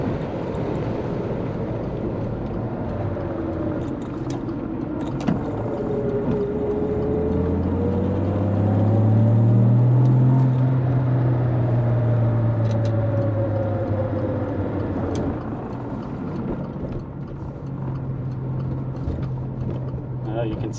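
Interior drive in a 1968 Jaguar E-Type Series 1.5 coupe with a window cracked open: a steady low engine drone and rushing wind noise, with engine pitch rising and falling as it revs, no talk over it.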